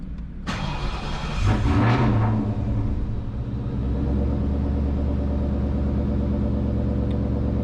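A Ford Mustang engine fitted with Holley EFI cranks and fires up on a dyno, rising into a loud rough roar before settling into a steady, heavy, close idle rumble.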